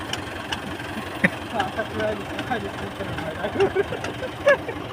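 A tractor stuck in a field idles with a low, steady rumble while people talk nearby, occasional clanks and knocks breaking through.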